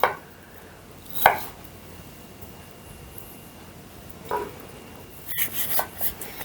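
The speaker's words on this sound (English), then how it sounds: "chunk this up, don't want it too thin" Knife chopping beef into thick chunks on a board in a home kitchen while preparing meat for pressure canning: a few sparse, fairly quiet cuts spread out, with a small cluster of strokes near the end.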